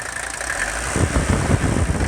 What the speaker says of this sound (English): I'm going to give it a little rev.